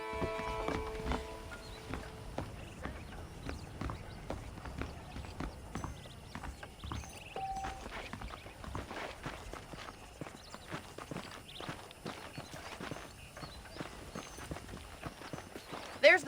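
Horse hooves clip-clop steadily in the Red Dead Redemption video game, a walking rhythm of light, close taps continuing for about sixteen seconds with a brief voice or whinny near the start and a louder knock at the end.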